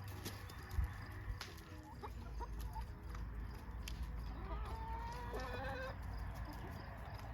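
Backyard chickens cluck and murmur while pecking at garden leaf scraps tossed over a fence, with scattered short calls from several birds over a low outdoor background.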